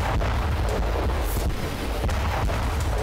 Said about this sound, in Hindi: यूक्रेन की राजधानी कीव में रूस ने एक के बाद एक 40 मिसाइलों की बरसात की।